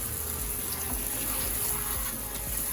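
Tap water runs steadily over freshly caught crabs being rinsed clean in a sink, a continuous close hiss and splash with no voices.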